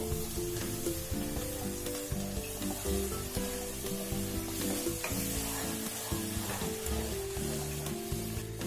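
Milk is poured into fried spices for a paneer curry, setting off a loud, steady sizzle and bubbling that continues evenly without pause, close to the pan.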